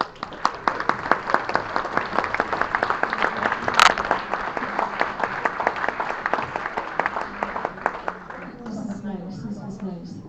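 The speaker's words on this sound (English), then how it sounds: "Give him another round of applause." Sustained applause from a crowd at a Liberty Tea Party Patriots meeting, many hands clapping in a steady, dense patter for several seconds before tapering off as a voice begins speaking near the end.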